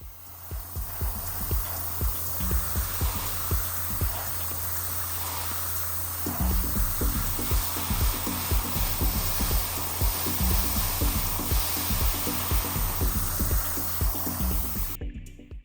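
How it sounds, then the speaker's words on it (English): An airbrush sprays black paint onto the taped window trim of a Toyota Celica Supra plastic model kit, giving a steady close hiss with a pulsing, rattling compressor underneath throughout. "starting lightly on the airbrush trigger, a thin layer of black is put on first to help seal up the tape"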